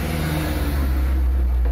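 A truck pulls up close behind, its engine a loud, steady mid-range rumble that rises slightly in a brief rev, with no voices.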